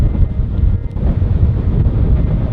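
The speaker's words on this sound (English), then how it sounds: "The winds are so crazy, and I doubt that you guys can hear me at all." Strong wind buffeting a microphone on a beach, a loud continuous low rumbling roar that fills the whole clip with no clear talking.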